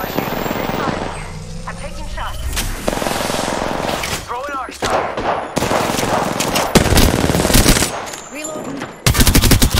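Heavy, near, loud automatic gunfire in the battle royale game Apex Legends, with long rattling bursts and sharp individual shots amid chaotic combat noise, and voices talking intermittently throughout.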